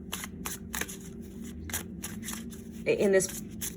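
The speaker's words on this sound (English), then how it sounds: "while I'm still shuffling" Tarot cards being shuffled by hand in short, crisp riffling bursts at an even rhythm, close up, followed by a brief louder rustle, while a voice talks quietly underneath.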